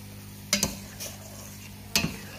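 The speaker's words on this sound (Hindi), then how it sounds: "इसमें मैं थोड़ा सा चम्मच चलाऊंगी" A spoon stirs sawaiyan as it boils in a pot, giving two short clinking scrapes against the metal over a low, steady bubbling background.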